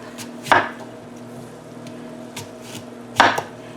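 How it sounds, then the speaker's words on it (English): A knife chops through an apple on a cutting board: two sharp, close thuds stand out, with a few fainter taps between them against a quiet background. "It says to core and chop."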